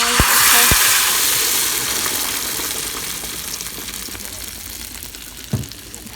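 Cooking oil for enchilada sauce fries loudly in a pan, opening as a strong hissing sizzle that slowly fades to a lower crackle, with a couple of sharp knocks and a brief clatter near the end.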